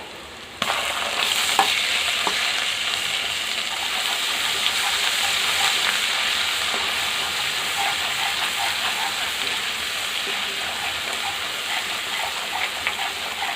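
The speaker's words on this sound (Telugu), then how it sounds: "అల్లం పేస్టు పచ్చివాసన పోయే వరకు ఇట్లా వేయించుకోవాలండి" Ginger paste frying in oil with browned mutton and turmeric for a Telangana mutton curry, a steady loud sizzle running throughout with faint stirring scrapes, close by and without speech.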